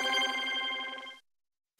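An unanswered outgoing call to Korean Air rings through a telephone receiver: one electronic ring burst lasting about a second, a silent gap, then the next ring beginning.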